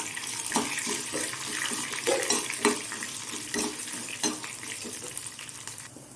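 Dals, garlic and dried red chilies sautéing in a pan for onion chutney, giving a steady hiss with repeated scraping stir strokes and clinks, close and moderately loud, with no talk.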